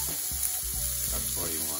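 Fish frying in a pan for tacos, with a steady close sizzle and a brief clatter as a piece is flipped partway through.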